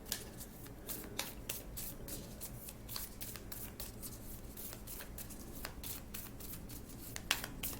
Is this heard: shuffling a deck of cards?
yes